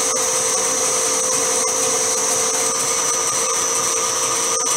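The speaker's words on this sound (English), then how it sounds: "a bit of a plunge cut with the parting off tool" A lathe parting-off tool plunges into metal, making a loud, steady, high-pitched whine and hiss that holds unbroken through the whole stretch.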